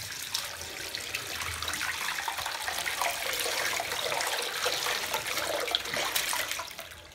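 Water spraying steadily over a very dusty motor to rinse it clean, a continuous close hiss and splash of running water lasting throughout with no talking.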